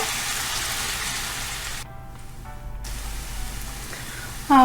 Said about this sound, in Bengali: এটা মোটামুটি কালারটা স্বচ্ছ হওয়া পর্যন্ত আমরা ভাজতে থাকবো।